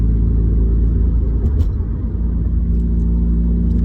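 Constant low road rumble and engine drone from inside a moving car, steady and fairly loud, with a couple of faint ticks in the background.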